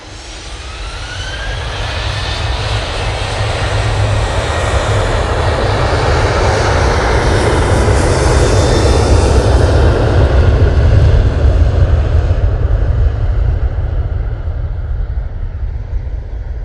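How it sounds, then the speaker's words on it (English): A Ryanair jet airliner roars down the runway on takeoff from Manchester Airport, bound for Rome, a loud sustained engine rumble and whine that swells and slowly fades as it climbs away. "Ryanair going off to Rome."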